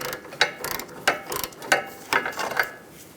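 A 14mm wrench working on a 2002-2006 Honda CR-V front sway bar link gives about five crisp metallic ratcheting clicks at a steady, unhurried pace, close and moderately loud.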